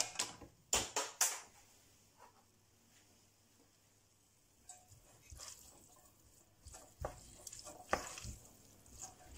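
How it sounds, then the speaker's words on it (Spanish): Spaghetti tossed in a frying pan with puttanesca sauce gives soft, intermittent scraping and clicking strokes, quiet and close, with a faint sizzle between stirs. "Revolvemos."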